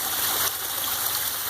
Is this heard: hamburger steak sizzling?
no